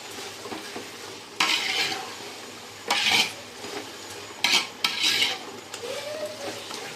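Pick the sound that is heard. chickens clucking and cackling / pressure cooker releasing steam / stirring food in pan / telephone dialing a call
stirring food in pan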